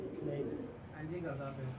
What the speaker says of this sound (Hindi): ये उड़ रहा कबूतर है